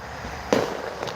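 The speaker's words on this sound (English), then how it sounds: "I hope all these fireworks all across the nation go off well tonight." A single distant firework bang thuds out with a dull pop, followed by a faint second crack, set against steady outdoor background noise during nationwide holiday fireworks.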